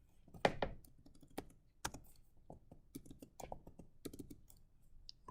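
Keystrokes on a computer keyboard, a run of sharp clicks in quick irregular bursts with short pauses, close and fairly quiet, no voice over them.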